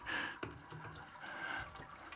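Water runs steadily out of an all-grain brewing setup making an Anzac biscuit ale, a continuous close splashing gush with no voices over it.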